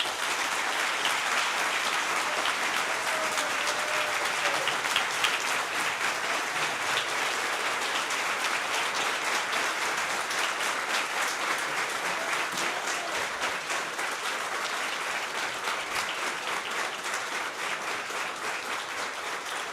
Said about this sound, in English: So give these two gentlemen and everyone who works with them a round of applause.